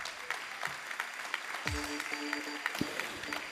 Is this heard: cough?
no